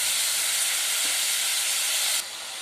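Mixed vegetables with capsicum frying in a pan for a mixed veg curry give a steady, loud sizzling hiss that drops slightly in level near the end, with no talking.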